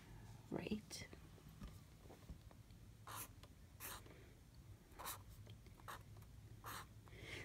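A scented felt tip marker scratches and glides across paper in soft, close strokes, with short bursts of faint rubbing separated by pauses, quiet and intimate.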